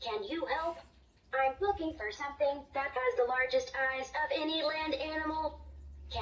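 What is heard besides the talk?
No distinct noise like a dog, phone or traffic.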